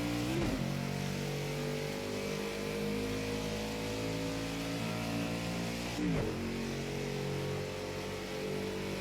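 Car engine in the racing video game Project Cars 2 blips and drops revs through the gears during heel-toe downshifts, a steady loud drone with two sharp rev dips, no talking.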